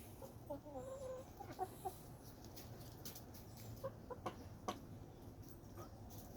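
Young Rhode Island Red chickens cluck softly and intermittently, close by in wet weather, with short higher calls scattered through a steady low background rumble.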